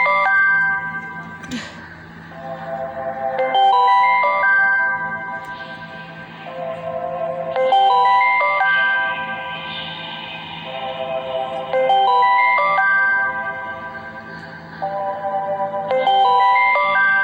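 The Astro ringtone of a Samsung Galaxy Note 9 plays a bright, chiming electronic melody that repeats in cycles of about four seconds, clear and alone.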